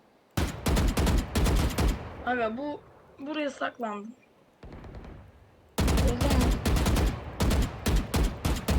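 Rapid bursts of Valorant gunfire, loud and close, in two long volleys separated by a pause where a person speaks briefly.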